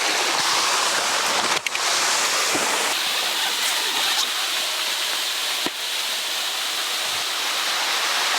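A waterfall roars steadily and loudly, a dense unbroken rush of falling water with no other sounds.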